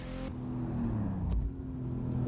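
Car engine from a driving video game, a sustained engine drone with shifting pitch and revs on a mountain touge road run, heard briefly and fairly loud with no voices.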